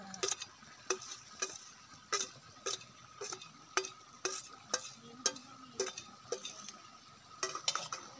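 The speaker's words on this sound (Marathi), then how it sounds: "ते आपले सगळे मसालेत ते आपण तेलामध्ये टाकणार आहे" Spices and onion masala fry in hot oil outdoors by a river while a metal spoon stirs and scrapes the pan, giving regular sharp clinks over a soft, continuous sizzle.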